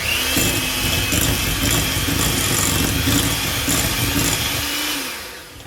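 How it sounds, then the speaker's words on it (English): An electric hand mixer whirs steadily while beating cream cheese in a bowl for a no-bake Oreo cheesecake, a continuous close motor drone that winds down and stops at the end. "So we have our mixer out. We have the cream cheese in here, and I'm just going to turn this on and mix it up a bit."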